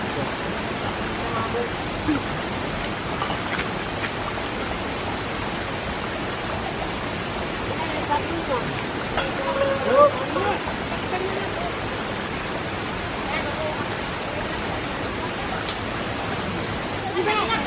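A forest waterfall roars in a steady broadband rush, even and continuous for the whole stretch, with faint bits of voices and movement now and then.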